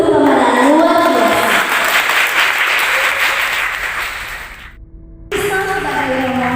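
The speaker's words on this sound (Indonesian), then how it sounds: "mari kita beri tepuk tangan paling meriah untuk seluruh pemeran luar biasa" Audience applause for a theatre cast after a debut stage performance: dense, loud clapping that fades out, breaks off briefly, then starts again with voices mixed in.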